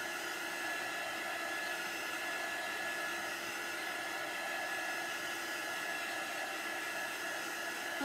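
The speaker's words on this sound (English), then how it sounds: "when you're drying something like this with a heat tool or a hair dryer" A hair dryer blows steadily and close while drying craft paint, a continuous even whoosh with no voices.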